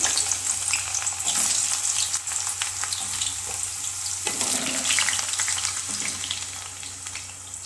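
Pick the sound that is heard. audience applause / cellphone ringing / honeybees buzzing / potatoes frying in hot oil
potatoes frying in hot oil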